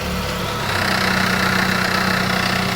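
Mitsubishi Outlander with a 4G64 engine and a failing serpentine belt tensioner, put into drive, runs with a steady loud rumbling vibration and a throbbing, knocking pulse that strengthens partway through.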